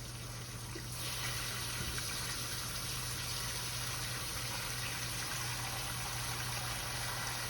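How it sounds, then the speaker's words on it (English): Tap water runs steadily into a pan being filled halfway while braised beef brisket is prepared in a home kitchen, a continuous close gush under a low hum with no talk. "I'm gonna fill it up halfway with water in my pan here"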